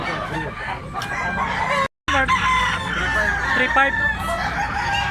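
Gamecock roosters crow and cluck loudly and close by at a fowl sale in Tabunok, Cebu, with overlapping calls from several birds and a brief silent gap partway through.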